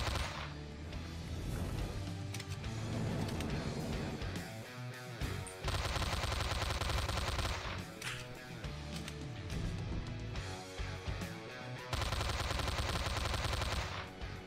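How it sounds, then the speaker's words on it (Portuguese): Automatic gun firing rapid sustained bursts in the video game Slendytubbies 3, loud dense rattling volleys with brief pauses between sprays. "que você for mandar o spray, que é essa rajada de tiro"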